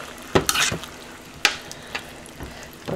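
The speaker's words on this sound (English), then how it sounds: "Stir this around." Spaghetti sauce for million dollar spaghetti being stirred as it cooks, with a few sharp scrapes and clacks of a utensil against the pan over a low steady simmer, close by.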